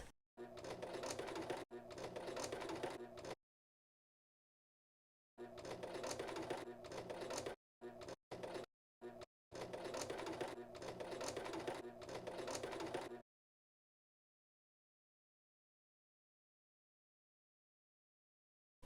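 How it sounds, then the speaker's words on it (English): A sewing machine stitches a denim vessel in several bursts, each a steady rapid rattling hum lasting a few seconds, with short stop-start runs between and silence after; close and clear with no talk. "Now we can go ahead and sew this."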